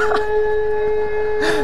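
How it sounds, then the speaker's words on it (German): A loud, steady siren like an air-raid alarm sounds during an online game match, holding several sustained tones from start to finish, with brief voice-like bursts at the beginning and end. "Jetzt macht der seine scheiß Sirene an."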